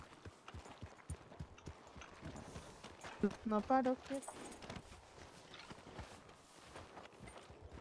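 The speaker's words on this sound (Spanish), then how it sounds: "voy a coger mi caballo bueno." Horse hooves clip-clop in a steady rhythm in the Red Dead Redemption II video game, faint and under talk, with a brief louder burst of sound midway.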